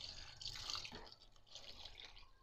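Water poured into a pot of frying tripe, a faint, close splashing and trickling with a brief hiss, uneven and quiet with no talk.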